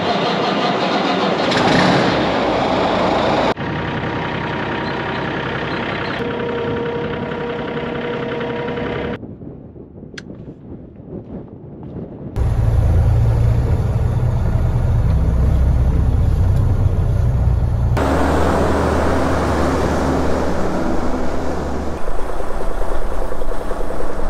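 A Freightliner truck's diesel engine rumbles steadily while driving on a road to haul corn to town, loud and continuous, with shifts in tone as the load and speed change and a brief quieter stretch midway.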